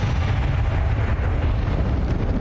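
A Confringo spell explodes in the Hogwarts Legacy video game, a heavy, rumbling fiery blast with deep low boom that holds steady and loud throughout, no voices.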